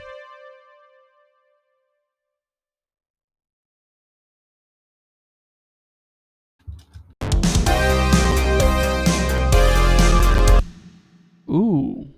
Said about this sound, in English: Actually, that sounds okay with the synthesizer.